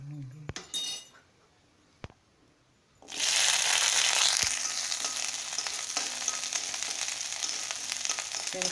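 Small onions frying in hot oil for garlic chutney produce a loud, steady sizzle that begins abruptly after a few seconds of near quiet, with a few soft clinks beforehand.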